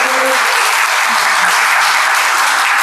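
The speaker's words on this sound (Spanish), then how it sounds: "les damos un aplauso por toda la información" Dense, steady audience applause at an innovation presentation event fills the moment loudly and evenly, a continuous wash of many hands with no voices over it.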